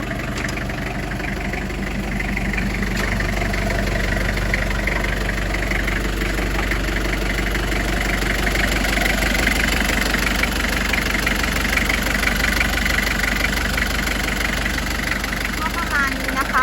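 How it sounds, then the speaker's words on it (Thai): A TCM FD25T3C diesel forklift engine idles steadily with a low, even chugging rumble, and a voice talks over it. "เครื่องยนต์ดีเซลค่ะคันนี้"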